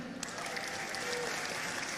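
Applause from a crowd at an Anies Baswedan campaign event in Riau, a brief, moderately distant patter of clapping hands.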